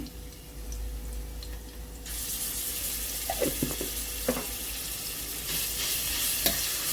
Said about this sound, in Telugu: ఉల్లిపాయలు ఇలా వేగిన తర్వాత కొంచెం అల్లం వెల్లుల్లి పేస్ట్ అయితే వేసుకోవాలండి.